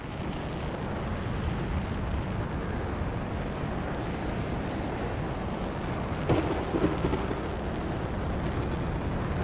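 Heavy rain and rumbling thunder roll on without a break in a stormy video game scene, a dense wall of low roaring noise with a slightly louder swell near the middle and no talk.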